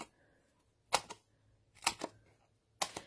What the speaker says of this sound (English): So I'm going to trim it, cut it in half.